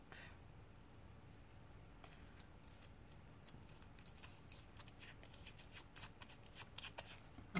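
A scrap of paper is crumpled by hand during a paper craft, giving a close, dry crackling and rustling that grows denser and louder toward the end.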